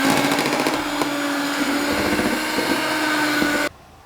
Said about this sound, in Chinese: 这时候我们开高速打发，打发7到8分钟